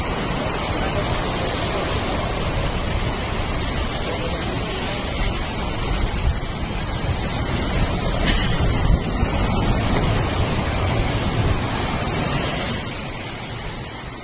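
Floodwater after a cloudburst in a mountain gully in the Kedar valley near Bhimbali, Uttarakhand, makes a loud, continuous rushing roar that stays steady throughout before easing slightly at the end, with no voices.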